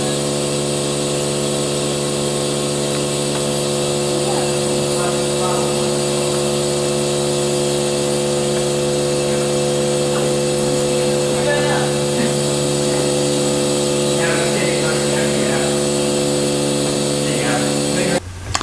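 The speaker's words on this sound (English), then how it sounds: "That noise you can hear is the water pump downstairs." A steady mechanical hum with strong tonal bands runs throughout from a water pump running downstairs in a testing museum, with faint background talk and clatter.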